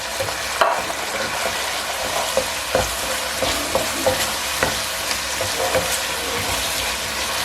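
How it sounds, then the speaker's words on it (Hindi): Chicken and vegetables fry in a pan with a steady, close sizzle, broken by repeated scraping and clinking as they are stirred. "चिकन को अच्छी तरह से फ्राई करना है।"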